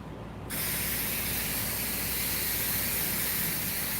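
Spray adhesive hisses steadily onto fur, a loud continuous spray that starts abruptly after a brief quiet moment and holds alone without pause.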